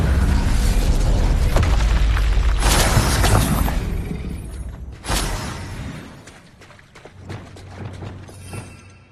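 Incendio fire spell cast in Hogwarts Legacy on PC, a loud whooshing burst with crackling impacts, then a second sharp surge and scattered smaller pops as it fades.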